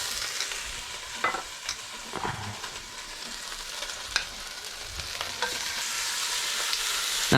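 Meat browning in a hot pan for an Italian Sunday tomato sauce, a continuous loud sizzle with occasional scraping stirs and clinks, close up and without speech.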